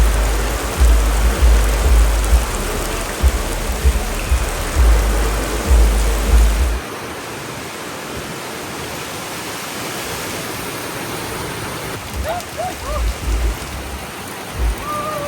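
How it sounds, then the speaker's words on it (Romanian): Steady rain pours in the Maldives in February, a dense, continuous hiss with heavy low rumble for the first half, then softer, even falling rain with a few faint distant chirps near the end. "Iar plouă."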